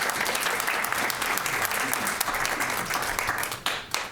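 An audience claps at a town planning board meeting, a dense, steady burst of applause from the room that runs for about four seconds before trailing off.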